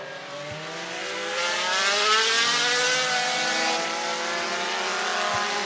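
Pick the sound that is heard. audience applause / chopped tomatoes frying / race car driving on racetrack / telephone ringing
race car driving on racetrack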